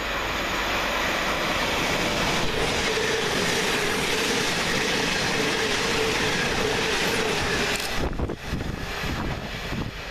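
A Govia Great Northern Class 700 electric train on a Cambridge to London King's Cross service passes through Welham Green station, giving a loud, steady rushing roar with rail clatter that breaks off abruptly near the end.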